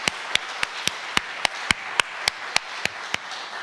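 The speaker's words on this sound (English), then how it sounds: "Can we give him another round of applause," A single pair of hands claps in a slow, evenly spaced rhythm, about a dozen sharp, close claps over quiet room tone, offered to a speaker at a Browning Day lecture event.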